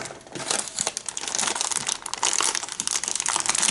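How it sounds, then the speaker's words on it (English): Plastic shrink-wrap being torn and crumpled off a Warhammer 40K 9th edition box set, a continuous close crinkling with irregular sharp rustles and tears, no talking. "let's go ahead and unwrap it"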